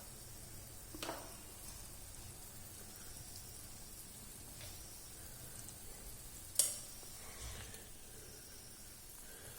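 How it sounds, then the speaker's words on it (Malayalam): Hot water for upma boils in a pan with a soft, continuous sizzling bubble, broken by a few faint clinks, one of them sharp. "അതുകൊണ്ട് ചൂടുവെള്ളം ഒഴിച്ച കാരണം അത് പെട്ടെന്ന് തിളച്ചു."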